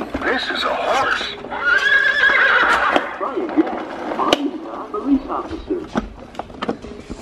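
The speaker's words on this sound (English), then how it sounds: "This is a horse." An electronic toy horse lets out a loud, drawn-out whinny, followed by clopping and clicking sounds, with a person talking over and around it.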